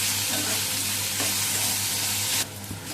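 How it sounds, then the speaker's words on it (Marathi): Steady sizzling of onion frying in hot oil, broad and continuous, with a faint stir partway through; the sizzle drops a little near the end. "कांदा आपल्याला चांगला रंग येईपर्यंत तेलामध्ये परतून घ्यायचं आहे"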